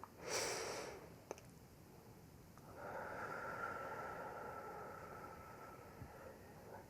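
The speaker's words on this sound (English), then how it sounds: "So we'll do 3 deep breaths." A deep breath during a relaxation exercise in a massage session: a short, close, airy inhale followed after a pause by a longer, softer exhale, quiet and alone.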